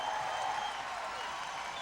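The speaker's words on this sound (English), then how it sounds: "Crowd rising here at Patrick Gym." A basketball crowd at Patrick Gym roars and applauds in a college game between Vermont and Canisius, a sustained distant wash of cheering with no pause across the short stretch.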